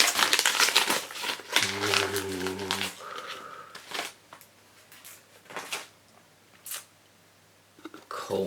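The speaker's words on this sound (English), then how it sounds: "I'm going to rip this open" A wrapped package of wargaming miniatures is torn open with crinkling, ripping bursts of paper and plastic in irregular bunches, close to the mic, interspersed with a brief hum and scattered handling noises.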